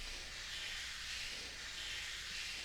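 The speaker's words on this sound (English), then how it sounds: "it almost gives it like this little vinyl kind of effect, little vinyl crackle effect" Steady soft crackle and hiss, like a worn record surface, running evenly throughout with no other sounds.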